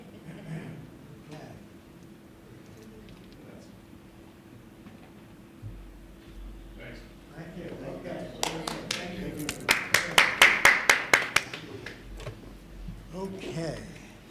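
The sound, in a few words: applause at board of education meeting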